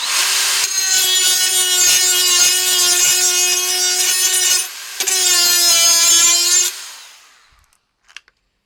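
A DeWalt cordless die grinder on a 5 amp hour battery runs at a high, steady whine, dips briefly, then spins back up before winding down to silence, followed by a couple of faint clicks.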